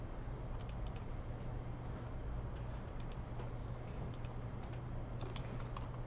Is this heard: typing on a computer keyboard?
yes